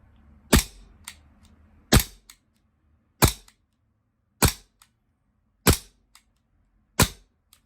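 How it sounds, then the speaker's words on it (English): A gas blowback airsoft Glock 17 pistol fires six loud, sharp cracks at a slow, even pace, each followed by a short faint clack of the slide cycling, with quiet between shots. "look at the blowback just with the gas magazine"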